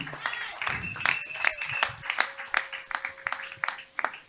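A church congregation claps and cheers for Jesus, scattered sharp handclaps building into rhythmic applause with crowd noise and a sustained tone underneath.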